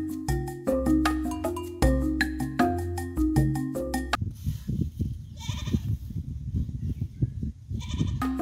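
Village goats in Giriamaland bleat repeatedly and close by in overlapping calls, following a stretch of loud plucked, ringing musical notes at the start.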